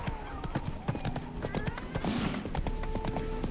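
Roach's hooves clop in a rapid, even riding rhythm in The Witcher 3, loud and close, with a brief rushing swell partway through and game music tones underneath.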